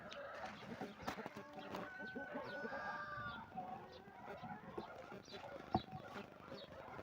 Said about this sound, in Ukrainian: Там кури гуляють.